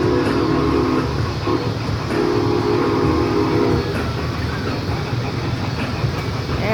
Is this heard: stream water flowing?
no